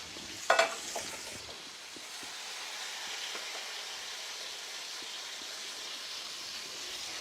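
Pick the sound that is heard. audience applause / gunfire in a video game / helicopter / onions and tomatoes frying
onions and tomatoes frying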